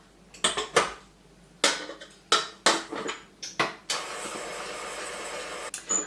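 Caster sugar, brown sugar and butter go into a stand mixer bowl. A series of sharp clanks and knocks is followed by the mixer starting up into a steady, continuous whirr.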